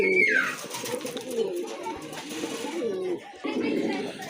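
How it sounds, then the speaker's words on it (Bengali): Pigeons kept for sale in Bangladesh coo in low, throaty bursts close by, with a voice talking among them. "দেখেন কবুতরগুলো আর একটু ভালোভাবে দেখে নিন"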